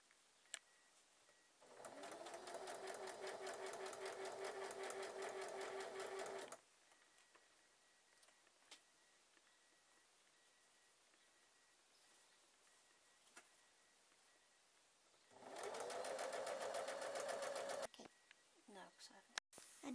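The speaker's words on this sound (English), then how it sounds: "Now I'm going to sew my seam all the way down to the bottom." A sewing machine stitches a skirt seam in two steady whirring bursts, the first about five seconds long and the second about three, with quiet room tone between and a few faint clicks.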